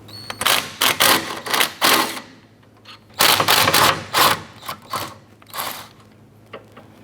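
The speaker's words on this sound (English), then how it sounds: "Using a 14mm socket, we're going to go ahead and remove the 2 bolts holding our brake caliper bracket on." A 14mm socket on a ratchet removing the two brake caliper bracket bolts on a 2004-2008 Acura TL: close, loud bursts of rapid ratcheting clicks in two main runs, separated by a pause, trailing off into a few lighter clicks.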